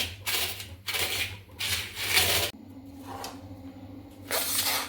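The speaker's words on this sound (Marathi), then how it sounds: "हे माझ्याकडे खलबत्ता आहे त्या साह्याने मी त्याला मस्तपैकी असं जरा जाडसर बारीक करून घेणार आहे." Edible gum is ground coarsely with a mortar and pestle for dink ladoos, a series of gritty rubbing and crunching strokes in bursts, close and fairly loud, with no voices.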